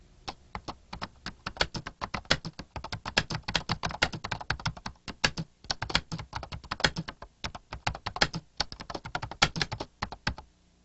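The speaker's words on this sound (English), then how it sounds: "Let's continue entering text by typing" Rapid, steady keystrokes on a computer keyboard while text is entered into the Lotus Ami Pro word processor, a close, crisp clatter with brief pauses between bursts and no talking.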